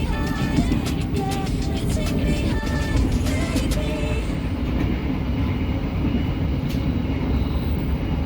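A Brawijaya long-distance passenger train with older executive-class coaches running on the rails, heard from inside as a continuous loud rumble with rattling and faint clickety-clack throughout.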